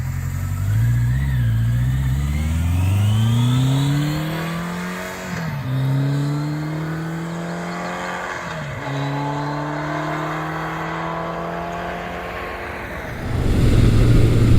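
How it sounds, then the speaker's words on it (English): A 1979 Kawasaki KZ1000 shaft-drive motorcycle with stock exhaust cruises Pennsylvania back roads, its steady, smooth engine note climbing through the gears with brief dips at each shift, close and continuous with no talk. "Because I'm running stock exhaust on the Kawasaki, it has more of a quiet jet engine sound to the exhaust."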